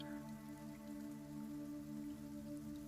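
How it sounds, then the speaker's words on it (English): Very light rain sprinkling down during a tabletop role-playing game scene in the Red Hills, a soft steady patter of drops heard alone at low volume. "Very light sprinkling falls from the sky."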